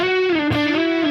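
A sustained electric guitar note rings out through a reversed delay effect, trailing echoes that seem to swell in backward, with a brief distorted burst midway.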